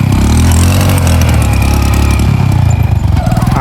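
A motorcycle stuck during off-road riding on a farm field, its engine held at a loud steady drone close by, then pulsing and sputtering as it strains near the end.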